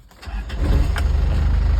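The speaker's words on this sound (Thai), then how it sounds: "ฟังเสียงเครื่องยนต์กันนะครับ" A used car's engine cranks over and catches, then settles into a loud, steady low idle rumble close by, with no talking.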